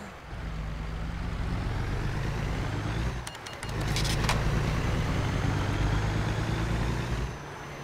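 A heavy truck engine in American Truck Simulator drones low and steady, dips briefly as a few sharp clicks and ticks sound, then comes back a little louder before easing off near the end.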